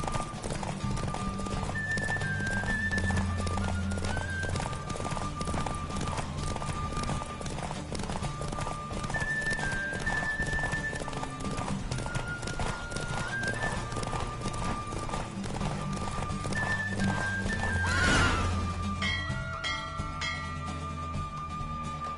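Steady clip-clopping horse hooves gallop without pause for over twenty seconds in a video game, with a looping melody playing over them and a brief whoosh near the end.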